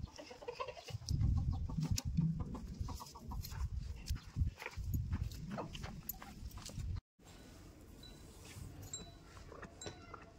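A frightened hen clucks near a goat in a farmyard, giving repeated agitated clucks and squawks up close amid rustling and shuffling, with a brief dropout partway through.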